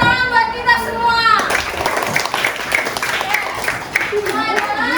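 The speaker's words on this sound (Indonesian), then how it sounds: "tepuk tangan buat kita semua" A classroom full of students bursts into applause, a dense wash of clapping that lasts several seconds after a teacher's voice, with some chatter mixed in.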